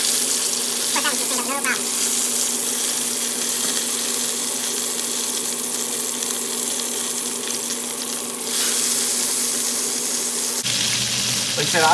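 The fat edge of a sous vide steak searing in a hot pan: a continuous close crackling sizzle that holds steady, then briefly flares louder toward the end.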